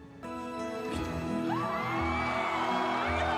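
A crowd whoops and cheers loudly after a sudden start in a scene from the Kissing Booth 2 movie, with raised voices and shouts layered over sustained tones.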